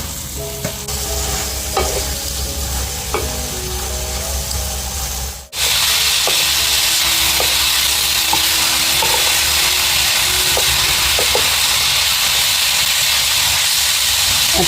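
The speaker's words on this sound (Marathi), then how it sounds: "याची वाफ याच्यावर शिजवायची बिगर पाणी वगैरे" Red amaranth greens with grated fresh coconut steam-cooking in a pan without water, giving a steady hiss and sizzle with light stirring clinks, which grows louder and brighter midway after a brief dip.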